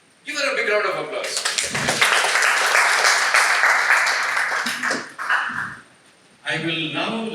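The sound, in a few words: applause at a Toastmasters club meeting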